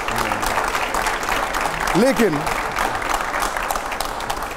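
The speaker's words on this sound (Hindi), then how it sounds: "इसमें जोरदार तालियां हो जाए जरा।" Applause fills a room during a televised political interview, a continuous patter of many hands, with a voice briefly speaking over it in the middle.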